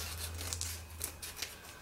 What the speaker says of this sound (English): I just like to take some scissors and go ahead and trim it up.